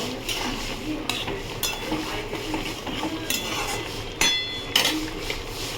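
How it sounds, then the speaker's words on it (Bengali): A curry being stirred in a pan with ghee and garam masala, with intermittent scraping and clinks of a utensil against metal over a low sizzle, close by and without talk. "গরম মশলা দিয়ে দিলাম, আর একটু ঘি দিয়ে দিলাম সামনে। ঘি দিয়ে নাড়াচাড়া করে নিলাম।"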